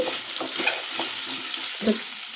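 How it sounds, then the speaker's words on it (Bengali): Potatoes frying in oil in a pan, a bright steady sizzle with intermittent scraping and stirring strokes of a spatula, close and fairly loud, with no voices. "এটাকে একটু তেলে লাল লাল করে ভেজে নেব"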